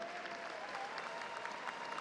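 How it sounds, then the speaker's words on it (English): Steady applause from a boxing-event crowd after the professional Martin Gethin vs Ben Murphy bout, dense continuous clapping throughout with no talk over it. "Ladies and gentlemen, a big round of applause for both boxers."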